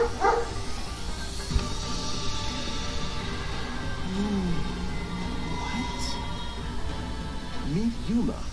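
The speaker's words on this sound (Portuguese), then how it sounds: "o cachorro resolveu latir agora." A dog barks a few times in short bursts at moderate distance, beneath a person speaking over background audio from a game presentation.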